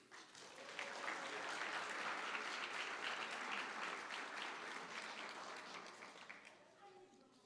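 Sustained audience clapping at a high school senior awards night as recipients come forward, a dense even wash of hands that tapers slightly near the end, with faint voices in the room.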